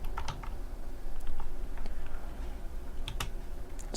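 Keys clack on a computer keyboard while a git commit message is typed, scattered sharp clicks in short irregular bursts, close and fairly quiet over a low steady hum.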